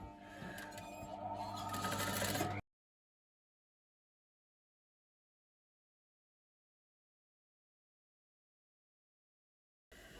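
A sewing machine stitches a waistband onto a boho-style skirt in one quick, rattling burst of about two and a half seconds, then cuts off to silence.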